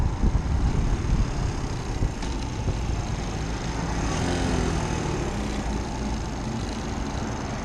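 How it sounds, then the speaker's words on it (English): Busy road traffic heard from a moving motorbike, a steady, close roar of engines, tyres and wind that runs unbroken throughout, with no talking. "today I'm riding in a busy traffic"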